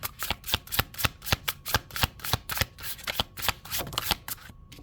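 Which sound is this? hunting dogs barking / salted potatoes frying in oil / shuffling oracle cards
shuffling oracle cards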